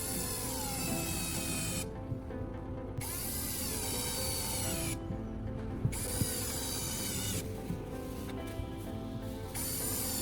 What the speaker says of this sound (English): Next, I position these two parts on a wooden board and secure them with screws using a drill.